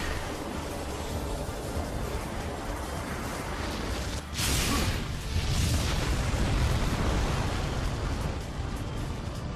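An explosion in the video game Kingdom Hearts Birth By Sleep bursts out midway through a dense, roaring wall of game sound, with a sharp whooshing blast followed by sustained rumbling, loud and continuous.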